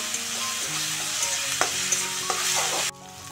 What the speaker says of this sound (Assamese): এয়া চাওক পেষ্টখিনি ঢালি দিছো আদা নহৰু শুকান জলকীয়া আৰু জালুক আছিলে এইখিনি এতিয়া ধুনীয়াকৈ ভাজিম